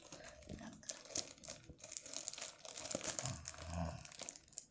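Plastic wrap and cardboard packaging on a Nintendo Mario 3D World game box crinkle and tear in short, close bursts, with quiet speech around the handling.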